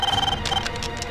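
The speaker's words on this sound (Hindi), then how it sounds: "ये लीजिए फोन भी आ गया।" A telephone rings in a Hindi-dubbed South Indian action film. The ring is a pulsing electronic tone that repeats several times at a quick, even rhythm, with busy background sound and scattered clicks layered over it.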